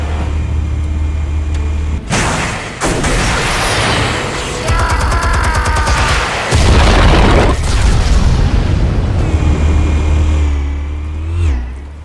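Explosives detonating in the Telltale Batman game, a dense dramatic soundscape of deep booms and rumbling blasts with bursts of crackling debris over low drones and music, loud and sustained throughout.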